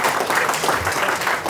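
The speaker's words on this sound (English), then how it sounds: "Big hand of applause again for Manu." A conference audience at a demo night in The Hague claps steadily for a moment, a dense and even wash of applause with no voices rising above it.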